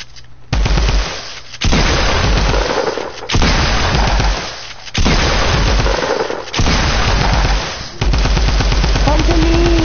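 Automatic gunfire in the video game Fortnite, loud and up front, coming in several long sustained bursts separated by brief pauses.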